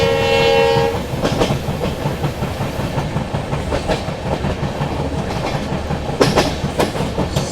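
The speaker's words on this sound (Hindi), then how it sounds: "जो सुबह लोकोमोटिव लगा था हम लोगों की ट्रेन में डीजल वाला, ये देखो वही हॉन्किंग कर रहा है तगड़ी।" A diesel locomotive hauling a passenger express sounds its horn in one loud sustained blast at the start, followed by steady rolling rumble and clickety-clack of the railcars, with sharp bursts of rail noise later.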